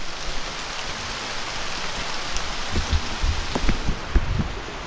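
Steady rain falls on surfaces close by, a dense wash of patter with scattered louder drops and splashes rising through it; no voices are heard.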